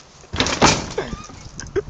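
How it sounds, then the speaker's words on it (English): Doors at an Australian house being pushed and rattled open, a couple of close, loud knocks and thuds with a brief scrape, no talking. "the doors aren't really opening right now"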